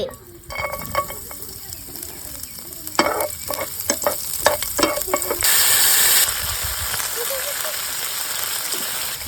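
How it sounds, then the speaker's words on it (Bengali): Chopped garlic sizzles in oil in a pan, a loud, continuous crackling hiss broken by scraping stirs and a brief surge of spitting, with low voices faintly underneath. "হালকা পরিমাণে তেল রসুন কুচি দিয়ে দিচ্ছি"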